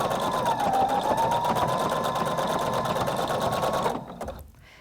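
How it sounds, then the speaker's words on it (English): A Husqvarna Viking Designer Brilliance 80 sewing machine runs steadily while it sews a seam, a fast, even mechanical whir with a rapid needle rhythm. It stays loud and close for about four seconds, then winds down and stops. "start sewing. And what it's going to do is sew a seam and finish the edge all at the same time"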